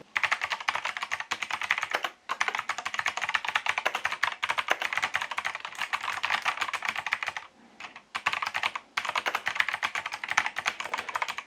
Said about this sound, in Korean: 청축 키보드는 들어보시면 딸깍딸깍 하는 클릭하는 소리가 납니다.